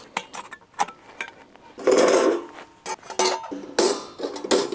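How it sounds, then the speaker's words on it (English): Metal parts of a small Überleben camp stove clinking and scraping together as it is assembled outdoors for a winter fire: close, irregular clanks and rattles, with two longer grinding bursts of metal sliding into place and no talk. "It's been a while since I've used this Überleben stove. It's a small camp stove, pretty easy to put together."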